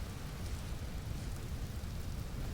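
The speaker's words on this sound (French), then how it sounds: "Ah, il pleut." Steady hiss of rain in the video game Vintage Story, dense and even, with a low rumbling undertone and no other sounds.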